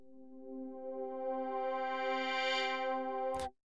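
A DUNE 3 software synth patch with a saw layer dropped an octave and detuned unison voices, one held, buzzy chord-like tone swelling gently and sustaining steadily for over three seconds before stopping abruptly, heard alone.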